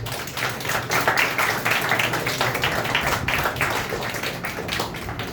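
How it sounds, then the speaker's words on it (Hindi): Students in a school classroom clap loudly and steadily for their parents. The applause is dense and continuous, swelling early and then holding strong to the end. "अपने पेरेंट्स के लिए भी एक बार जोरदार ताली बजाइए।"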